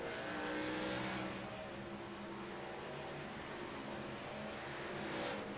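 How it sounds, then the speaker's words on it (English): Sim race truck engine from iRacing at Darlington, droning loud and steady throughout with a sustained roar that swells at the start and again near the end; no voices. "Is the car too loud?"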